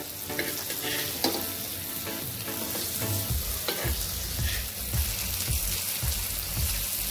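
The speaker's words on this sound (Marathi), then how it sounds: "त्या थोड्या फ्राय करून घेते." Pieces of pomfret fish fry in oil in a pan for a Konkan-style paplet fry, a continuous crackling sizzle with soft stirring clicks and pops, loud and close, with no voices.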